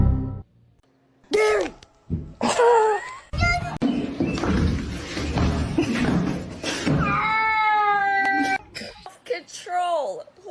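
A cat meows and caterwauls in several drawn-out, rising and falling calls amid speech and background chatter in a home setting, close and fairly loud.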